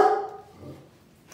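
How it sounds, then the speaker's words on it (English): A single dog bark, close and fairly loud at the start, followed by quiet room tone. "My dog."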